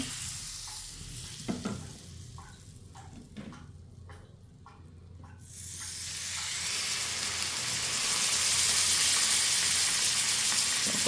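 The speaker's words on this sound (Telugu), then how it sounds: "కొంచెం మళ్ళీ బటర్ వేసుకున్నానండి ప్యాన్లో" Butter hits a hot frying pan with lobster and sizzles, starting with a few clinks and soft stirring, then swelling into a loud, steady frying hiss.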